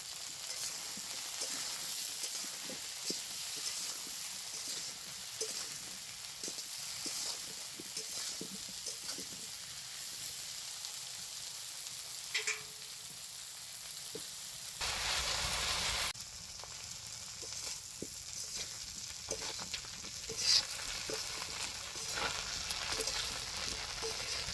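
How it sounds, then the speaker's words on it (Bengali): Cauliflower and potato pieces with salt and turmeric crackle in hot oil, a steady close sizzle broken by scattered stirring clicks and one louder burst of hissing midway; nobody speaks. "আলু কপিটা ভাজা হয়েছে"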